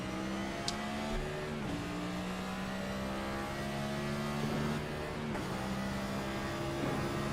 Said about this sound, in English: watch him come up through the gears as he'll head off into turn 1 here in just a bit